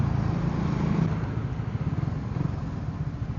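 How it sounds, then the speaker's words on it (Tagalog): A Suzuki Raider 150 Fi motorcycle engine drones steadily at close range, with a rough, pulsing low rumble and constant wind-like noise as it rides along. "sana naririnig niyo yung motor"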